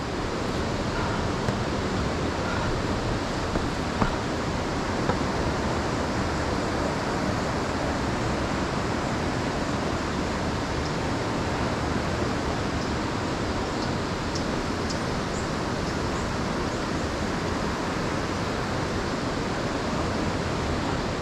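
Rushing water at the Cucumber Rapids boulder area in Ohiopyle, a steady, dense roar that holds loud and unbroken throughout, with no voices over it.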